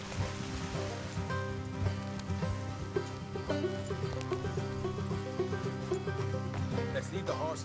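Horses neigh and whinny in the Red Dead Redemption 2 video game, with a clip-clop of hooves and rain-like patter layered over a steady, dense bed of in-game music and ambience.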